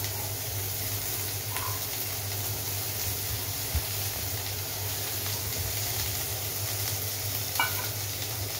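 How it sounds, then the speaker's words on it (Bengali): Carrots, capsicum, tomato and peas fry in a pan for Maggi soup, giving a soft steady sizzle with a few faint stirring clinks and no talking. "একটু আমি ভেজে নিচ্ছি।"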